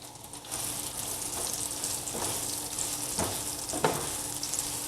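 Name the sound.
onions browning in hot oil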